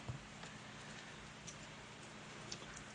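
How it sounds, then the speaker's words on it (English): Steady rain falls outside on a rainy Georgia day, a soft, even hiss with faint scattered drip ticks and no break in the wash. "It's a rainy day here in Georgia."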